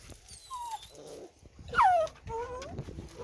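Dogs whimper and whine in the back of a truck, a few high wavering yelps and sliding whines over a low background rumble, fairly close and moderately loud.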